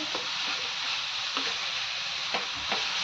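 Roasted coconut and melted jaggery sizzle steadily in a pan while being sautéed for ukdiche modak filling, with a few soft spatula scrapes and stirring taps over the continuous frying hiss.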